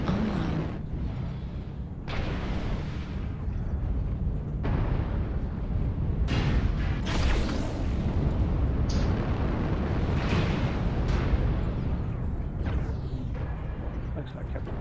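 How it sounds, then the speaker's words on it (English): Airstrike explosions in a MechWarrior battle, a continuous rumbling barrage of heavy booms and blasts layered over battle noise, with someone talking over it at times. "Airstrike online."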